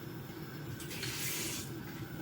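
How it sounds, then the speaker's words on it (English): Tap water runs into a pot of plantain pumpkin rice, a faint steady splashing stream that swells briefly in the middle, with no talk. "I'm gonna put a little bit more water in that."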